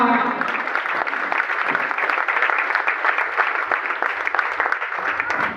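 Audience clapping at a Janshakti Group speech event in Kanpur, a dense, steady burst of applause lasting several seconds with no speech over it.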